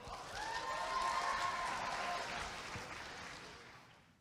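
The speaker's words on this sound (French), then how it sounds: "Applaudissons-la." Audience at a high-school talent gala applauds between acts, a soft wash of clapping that swells and then trails away, with a faint voice or musical tone drifting over it.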